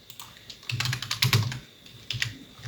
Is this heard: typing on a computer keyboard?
yes